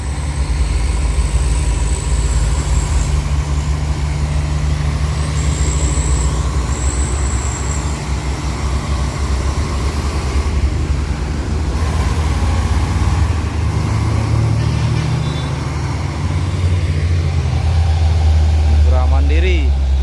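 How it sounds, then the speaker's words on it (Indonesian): A Fuso truck climbing a steep hill, its engine labouring in a heavy, continuous low rumble with occasional air-brake hiss, while people talk nearby throughout. "truk wayang ini truk Fuso"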